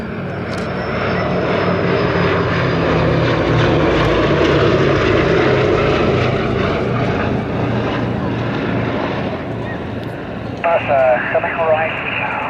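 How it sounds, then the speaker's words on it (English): A Boeing B-17 Flying Fortress, a four-engine propeller bomber, drones past at an airshow display with a loud, steady multi-engine roar swelling and easing, while an announcer talks over the public address. "It is the only flying fortress still flying in Europe"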